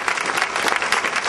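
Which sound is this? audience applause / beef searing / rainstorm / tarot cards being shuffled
audience applause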